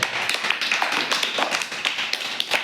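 Rapid, bright clapping runs continuously for a few seconds in a first-class mathematics lesson, a close, steady patter of hands applauding a boy.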